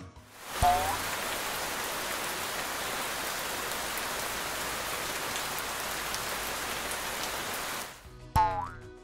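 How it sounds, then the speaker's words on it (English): Steady rain falls in a dense, even hiss for about seven seconds, then stops abruptly, followed by a brief cartoonish boing and a short voice. "We're going to listen to the sound of rain."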